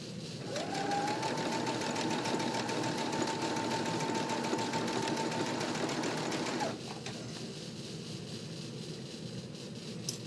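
Sewing machine stitching a knit neckband with a steady, close, whirring hum for several seconds, then stopping abruptly into quieter room noise.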